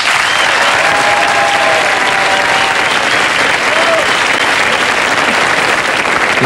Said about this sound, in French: Merci d'applaudir Luc Plamondon.